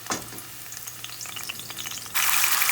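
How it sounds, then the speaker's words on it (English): Rice frying in olive oil, a close crackling sizzle with light stirring, swelling abruptly into a louder, denser hiss near the end, no speech. "I added the rice to the oil"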